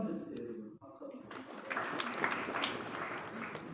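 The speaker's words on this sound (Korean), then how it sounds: "박수 한번 주세요" Applause from a lecture audience begins after a voice speaks, swelling into a steady, fairly loud patter of many hands clapping that runs to the end.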